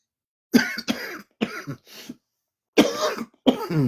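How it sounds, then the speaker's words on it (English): A person coughs several times in close, harsh bursts, a pair, then a few more after a short pause, loud and near with no talking. "I'm coughing like this"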